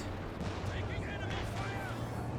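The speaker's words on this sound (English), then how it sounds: "That seems a good spot for a pack howitzer shot." Artillery fire from a pack howitzer in Company of Heroes 2, heard as a dense run of booming gunfire across the whole stretch with battle noise layered underneath, while a voice talks over it.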